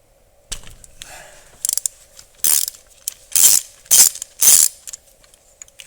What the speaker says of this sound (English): I'm using a 10-inch extension, 3/8 drive, so here we go.